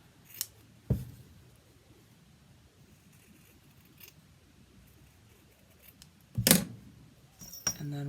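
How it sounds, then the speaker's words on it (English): Scissors snip through a felt circle for a Christmas gnome craft, giving a few quiet, separate cuts spread out over a near-silent background. "so get this cut out"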